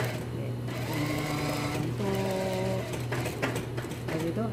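Domestic sewing machine stitching decorative topstitching on the front pocket of an elastic-waist pair of trousers, a steady loud motor hum running throughout with brief pauses in rhythm; voices talk over it.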